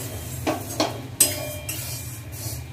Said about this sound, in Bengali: প্রথমে আমি ডালিয়াগুলো শুকনো কড়াতে একটু নেড়ে নেব